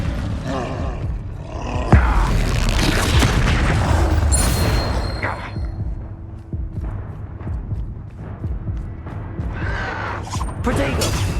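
Spell blasts and booming impacts from combat in the Hogwarts Legacy video game, loud and continuous with a sharp burst near two seconds, mixed with voices shouting over the fight.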